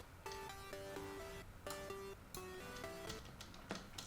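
A raw, buzzy sawtooth synthesizer plays a short chord-and-melody pattern, dry and without effects, bright and harmonically rich, with no talking.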